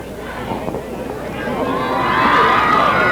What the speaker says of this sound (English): Crowd on Pemberton's side a little feisty.